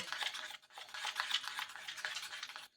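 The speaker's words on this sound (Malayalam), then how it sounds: "അത് നന്നായിട്ടൊന്ന് മിക്സ് ചെയ്യണം കേട്ടോ" A kasthuri turmeric powder face pack mixture is stirred briskly, a close, continuous scraping swish that runs for a few seconds with a brief pause and then stops, with no talking.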